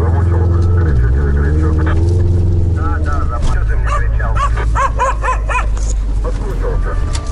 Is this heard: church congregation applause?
no